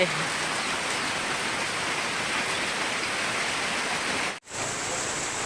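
Steady, dense rain falls close by as a continuous hiss, broken by a brief silent gap near the end before the downpour resumes.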